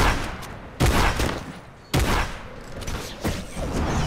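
Gunfire in the game Fortnite: two heavy, loud blasts roughly a second apart, each with a booming tail, followed by softer, scattered shots further off.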